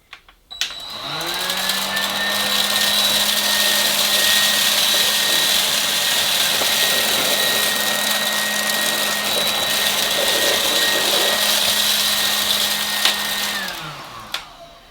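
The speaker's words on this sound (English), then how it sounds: "we'll move the cleaner along and try it on full power" A budget Goblin 2-in-1 cordless stick vacuum runs on full power across a hard floor, its motor whining up quickly into a loud, steady high-pitched hum that holds for about thirteen seconds before winding down as it is switched off.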